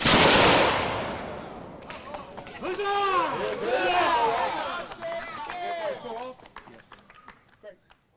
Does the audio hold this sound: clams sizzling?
no